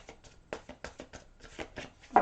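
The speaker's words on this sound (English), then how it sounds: "One more shuffle here for Scorpios." Angel cards being shuffled by hand: a run of soft papery riffles and taps, about eight quick bursts, close and fairly quiet, ending in a louder final riffle, with no one speaking.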